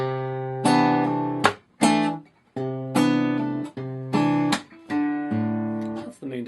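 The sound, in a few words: guitar playing measure 92 of a song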